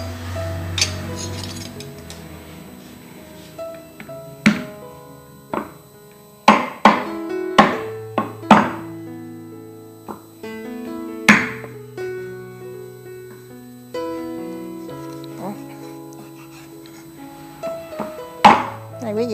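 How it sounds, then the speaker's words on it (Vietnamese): Knife cutting dried fish into pieces for frying, a series of irregular sharp chops and thuds on a board, some close and loud, with tonal music running underneath throughout. "Khô này cắt miếng rồi chiên luôn hết mà."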